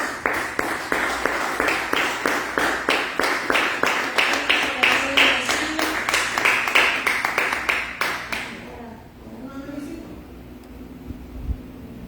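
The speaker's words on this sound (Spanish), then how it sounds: "Dale un fuerte aplauso a Dios." A church congregation claps together in a steady, rhythmic beat, loud and even for about eight seconds before stopping, followed by quieter room sound and brief speech.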